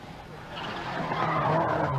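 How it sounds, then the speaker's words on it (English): Rally car overcooking a corner at the 1986 Cork 20 Rally, its tires skidding on the road as the engine roar builds and grows louder toward the end. "and so is our cameraman, as he overcooks it in an effort to stay ahead of Frank Meaher."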